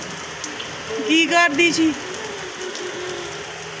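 Rain falling steadily outdoors, a continuous soft patter on surfaces that goes on throughout, with a brief spoken line partway in.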